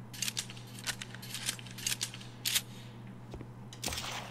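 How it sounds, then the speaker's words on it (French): Shotgun shells being loaded into a pump-action shotgun in The Walking Dead: Survival Instincts, a series of sharp mechanical clicks and clacks in quick succession, close and fairly quiet over a steady low game hum, with no talking. "Fusil à pompe. Ah, il faut que je chambre les cartouches."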